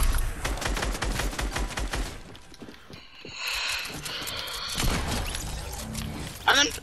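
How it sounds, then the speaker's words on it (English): An LMG sprays rapid automatic gunfire in Fortnite, a dense burst of close shots followed by scattered shots and game effects, with players talking over it. "Just LMG spray."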